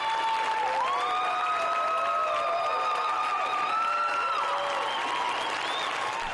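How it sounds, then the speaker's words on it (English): Standing ovation applause at a police chief's ceremonial swearing-in, a dense continuous wash of clapping from a large crowd with faint cheering and tonal sounds riding over it throughout. "The crowd recognizing the monumental accomplishment, giving her a standing ovation during a ceremonial swearing in."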